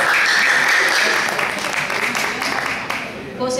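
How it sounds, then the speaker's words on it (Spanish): At a restaurant-hosted awards ceremony honouring children and youths, the audience breaks into strong, sustained clapping that stays loud and dense throughout, easing slightly toward the end. "Fuertes aplausos,"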